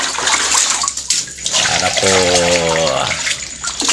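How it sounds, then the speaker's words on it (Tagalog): Water gushes steadily into a cooking pot, a loud continuous pour filling the whole stretch while someone speaks briefly. "ilalagyan na po natin ng tubig"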